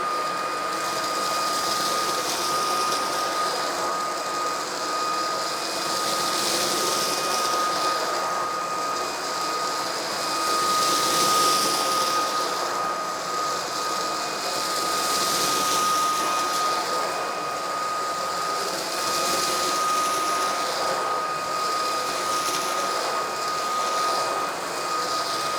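A Eureka cordless vacuum runs on its highest speed as a steady, loud whooshing drone with a constant motor whine. It holds unbroken for about twenty-five seconds with no talking.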